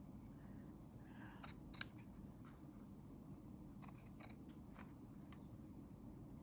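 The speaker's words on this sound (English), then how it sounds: "I'm going to be very careful with my cutting." Scissors snip through quilting fabric in a few short, separate bursts of cuts over a low steady background hum, fairly quiet and close by.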